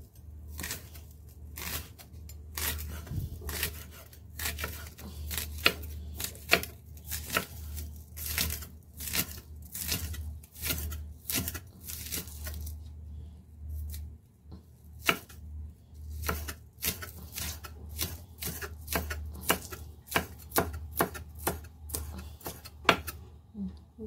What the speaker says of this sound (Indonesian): Setelah itu kita iris tipis juga daun bawang merahnya ya.